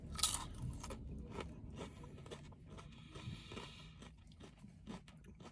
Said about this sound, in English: A nice crunch to the chip.